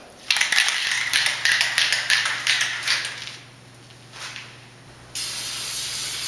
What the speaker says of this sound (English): The paint that I'm using is just standard black spray paint